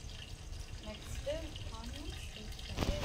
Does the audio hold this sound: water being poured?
yes